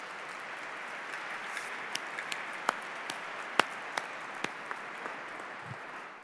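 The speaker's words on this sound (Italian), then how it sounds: "Applauso" Audience at a church dialogue with an archbishop gives sustained applause, an even crowd wash punctuated by a few sharper nearby claps.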